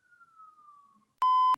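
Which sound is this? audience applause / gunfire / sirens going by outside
sirens going by outside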